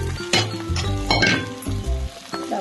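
Sago pearls tipped into a hot frying pan with salt and sautéed ingredients: sharp clinks of a metal spoon against the pan, with two bursts of sizzling as the pearls hit the oil.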